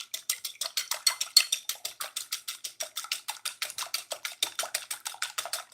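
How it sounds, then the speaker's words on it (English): Two eggs whisked briskly in a bowl with a wire whisk, giving a steady, rapid run of light metallic clicks and taps, close and alone with no talking. "So I'm whisking the 2 eggs right now."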